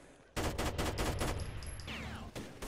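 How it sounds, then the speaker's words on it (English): Rapid bursts of automatic gunfire in Rainbow Six: Vegas 2 Terrorist Hunt, a dense volley of repeated shots after a quiet start, loud and close, then a brief pause and a few more shots. "Someone shot Sam from behind."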